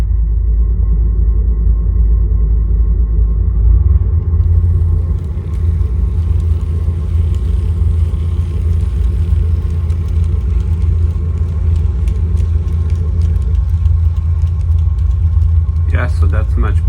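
A Bachmann F7 model locomotive from an Alaska Railroad starter set, fitted with Atlas wheels and a Kato sound box, gives off a steady, loud diesel-engine rumble, with a voice heard over it.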